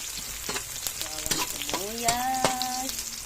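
Garlic and onion fry in a pan for pancit bihon, a bright crackling sizzle with clattering stirs and a scraping utensil sliding against the pan, close and continuous.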